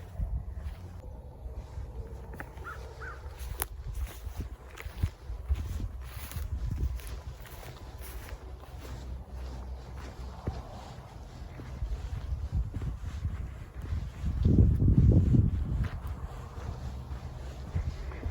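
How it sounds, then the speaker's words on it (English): A breeze blows outdoors at Loew Lake, buffeting the microphone with low, gusty rumbles that swell near the end, along with faint rustles and a few soft thumps like footsteps. "There's a great breeze today on October 24th of 2020."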